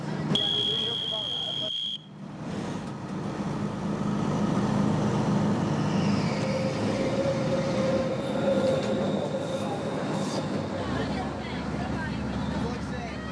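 A Circumetnea railway train runs on the line around Etna in Sicily, its steady loud rumble of wheels and carriage filling the cabin, with a high squeal, a brief hiss and a faint background voice.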